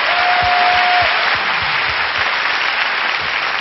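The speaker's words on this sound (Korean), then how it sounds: "이럴 때 응원의 박수 다시 한번 주세요." Studio audience applause at a Korean music talk show, a loud, even wash of clapping filling the whole stretch without letup.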